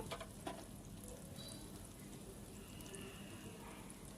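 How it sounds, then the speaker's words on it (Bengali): Onion and green chili fry in oil for a bitter gourd stir-fry, giving a faint, steady, soft sizzle with a few small pops. "এখন এই পেঁয়াজ আর কাঁচামরিচ একসাথে ভালো করে একটু ভেজে"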